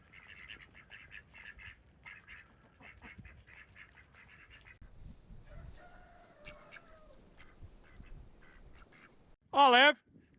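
Ducks on a farm: a series of rapid nasal quacks up close, then quieter intermittent calls amid rustling and other fowl noise, ending with a sudden loud wavering shriek.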